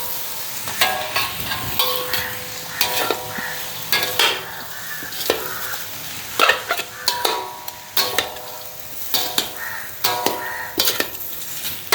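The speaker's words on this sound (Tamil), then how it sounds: "என்னென்னு சொன்னால் அளவளவாக போட்டு கிண்டுவோம்." Vegetable noodles frying in a pan while being stirred, a steady sizzle broken by repeated scraping and clinking of the utensil against the pan.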